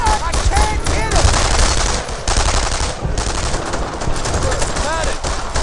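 Machine gun fire rattles dense and loud through a Brothers in Arms: Earned in Blood battle, with overlapping rapid bursts and echoing shots sustained throughout, under soldiers' shouting.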